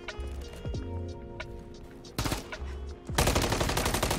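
Bursts of automatic gunfire in Call of Duty: Modern Warfare 3 ranked multiplayer, with two loud, sustained volleys cutting in sharply over quieter game ambience.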